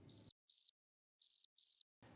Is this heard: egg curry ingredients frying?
no